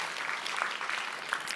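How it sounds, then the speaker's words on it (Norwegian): A church gathering for women breaks into brief applause, a soft, short burst of scattered clapping heard from a distance. "Jesus, jeg kan gi en applaus til de som har tatt det valget."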